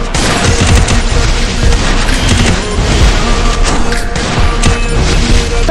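Rapid gunfire in a mobile shooter game played on a Samsung phone, dense loud bursts of shots and booms crowding the whole stretch with hardly a pause.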